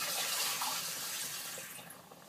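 Water pours into a pot of rice with instant vegetable soup on a stove, a steady splashing gush close by that tapers slightly toward the end.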